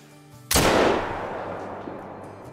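One sharp, loud hunting rifle shot in the video game Call of the Wild cracks after a quiet moment, then a long rolling echo slowly fades away.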